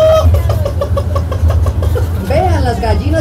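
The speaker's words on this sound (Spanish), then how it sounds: "Vean las gallinas que están poniendo hasta huevitos." Hens clucking at a live nativity scene during a festival in Atlixco, Puebla: short, repeated clucks over a steady low engine-like hum, with a voice talking nearby.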